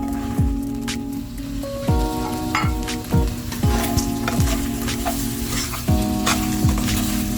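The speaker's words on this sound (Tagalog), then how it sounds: "Stir fry lang natin dito sa ating pinaglutuan ng ating chicken" Baguio beans stir-fried in a pan still holding the juices from cooked chicken, a steady loud sizzle broken by repeated scraping strokes of a spatula, with music playing underneath.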